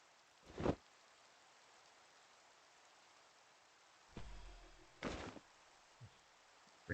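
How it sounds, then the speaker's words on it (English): Rain falls in the Minecraft video game as a faint, steady hiss that runs throughout, broken by a few louder, brief thumps and bursts from other in-game sounds. "Rain."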